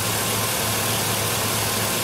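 A Chevrolet Silverado pickup idling, its engine giving a steady low rumble and hum, close and even throughout with no talk.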